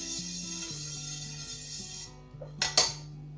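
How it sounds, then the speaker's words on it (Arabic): A frying pan is opened and handled in a home kitchen while making buckwheat galettes: a steady hum of background tones, then two or three sharp metallic clanks close by near the end. "نفتح المقله ديالي."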